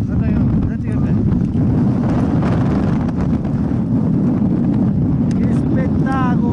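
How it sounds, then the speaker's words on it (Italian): Strong wind on a mountain ridge on Pizzo delle Fosse, roaring and buffeting loudly against the microphone throughout, with brief speech in the middle. "Guarda che roba, senti che vento!"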